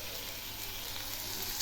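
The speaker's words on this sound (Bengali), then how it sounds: "এখন আমি এর মধ্যে দিচ্ছি একটা পেঁয়াজ বাটা" Onion paste is added to rice and potatoes frying in a pan for fish pulao, and a gentle, even sizzle runs throughout at a low level with no voices.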